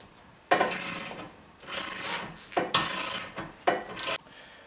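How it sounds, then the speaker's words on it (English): A socket wrench ratchets as it tightens the nuts on a light bar mount on a Polaris RZR 1000. Four separate bursts of fast, close clicking come with short pauses between them, and no one talks. "take your socket wrench and tighten all of your nuts so that the light bar no longer moves"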